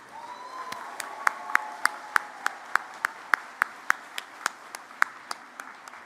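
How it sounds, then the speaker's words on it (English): Sparse, evenly spaced claps from a convocation audience honouring graduates, sounding like a single person or small group clapping in a steady rhythm over a faint background hum of the hall. "congratulate our graduates with a huge round of applause"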